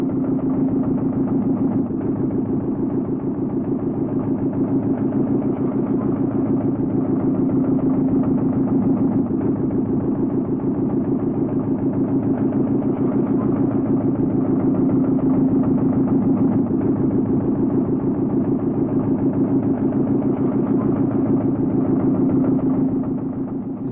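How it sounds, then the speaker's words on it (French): A road-paving machine spreading the final surface layer on a new desert road in the Algerian Sahara, 1959, gives off a steady, unbroken engine drone with a low hum, loud and even throughout. "À la vitesse d'un homme au pas, une nouvelle machine procède à l'épandage."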